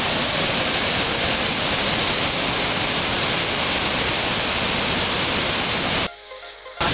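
A loud, constant roar of Victoria Falls in Zambia fills the scene, a dense rushing wash of falling water and spray that cuts out briefly near the end.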